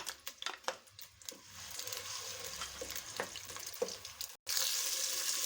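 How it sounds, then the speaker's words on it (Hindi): Ground onion sizzles and crackles as it fries in cooking oil in a pan, a steady close hiss with stirring scrapes, a brief gap near the end, then frying continues loudly. "सबसे पहले हमने 1 प्याली कुकिंग ऑयल डाला है इसमें पैन में। अब हम ये पिसी हुई प्याज डाल देंगे"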